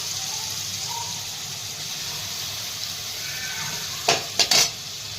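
Chopped tomato with a little oil and salt sautéing in a pan, a steady close hiss of frying throughout, with a few brief stirring scrapes near the end.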